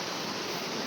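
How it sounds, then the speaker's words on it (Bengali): A waterfall at a sightseeing spot in Darjeeling gives a steady, broad rushing roar. It is loud and constant through the short moment, with no voices. "ঝর্ণার সাউন্ড আসছে"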